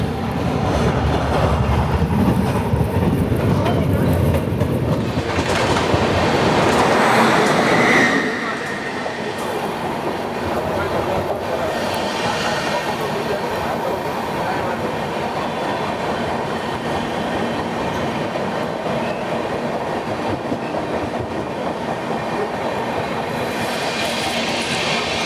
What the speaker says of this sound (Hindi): कोई तो ट्रेन आनंद जंक्शन को स्कीप मार रही है